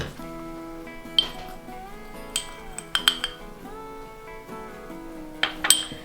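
A utensil mixes dry cookie ingredients (einkorn flour, salt, baking soda) in a bowl, producing scattered, ringing clinks and light taps against the bowl at an irregular pace, fairly quiet and close.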